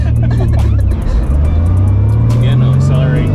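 A car's engine revs and climbs loudly during a drift lesson, with a droning pitch rising through acceleration up close, and a voice talking over it.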